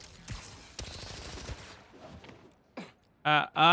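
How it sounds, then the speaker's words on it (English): Gunfire in the Spider-Man Miles Morales video game on PS4 Pro: quick bursts of shots ring out at the start, followed by quieter game sounds and a few short voice lines. "Who the hell's shooting me?"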